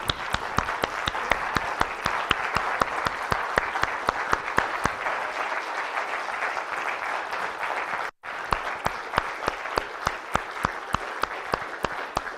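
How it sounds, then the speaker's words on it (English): An audience at a storytelling finals and awards ceremony claps in sustained, even applause, dense and loud, with a split-second break before it continues. "Come up here and join me for a round of applause one more time."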